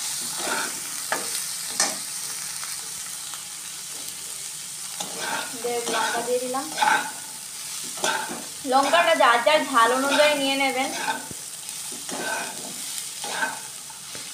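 Spices and chili fry in a pan for a butter paneer paste, giving a steady sizzle with repeated stirring scrapes that grow busier midway, while a person talks intermittently over the cooking.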